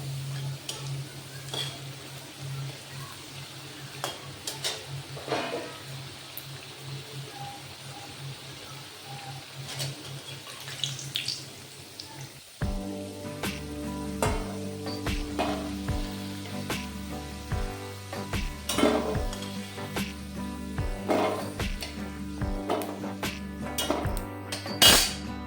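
Cloves and cinnamon hit hot tempering oil in a pan, giving a steady crackling sizzle that carries on under rhythmic background music in the second half, with no one talking.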